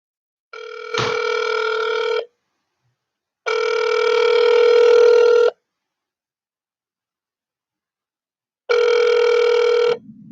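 A telephone rings in three long electronic bursts separated by pauses, ending with a short low click as the receiver is picked up; loud and close, with no talking.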